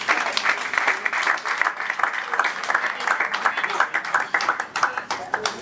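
Conference audience at an early childhood education event breaks into loud, sustained applause, dense overlapping claps close by with a few sharper individual hits standing out toward the end.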